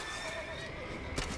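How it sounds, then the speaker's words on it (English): A horse neighing in The Witcher 3: Wild Hunt video game, a brief whinny over dense, loud game ambience with hoof-like clatter near the end. "just get on your horse and let's go"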